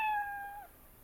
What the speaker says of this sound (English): play sound meow until done